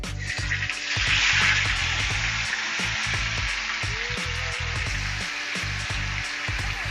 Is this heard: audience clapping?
no